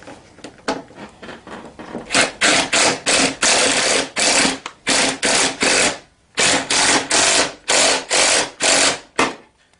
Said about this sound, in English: Go ahead and put my nut on the back. And tighten this down.